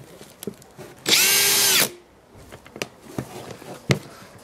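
Drill spinning a DE-TERO sanding sleeve, a single loud whine of under a second, surrounded by quiet taps and handling sounds.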